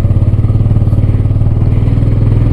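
A motorcycle labors up a rough, extreme off-road dirt track, its engine droning close and steady with a pulsing, strained beat and loose rattling clatter throughout, no voices.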